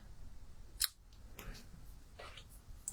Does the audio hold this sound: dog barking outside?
no